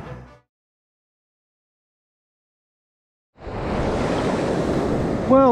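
Choppy sea waves stirred up after several days of storms, heard as a loud, rushing wash of surf and water noise close to the microphone after a stretch of near silence at the start.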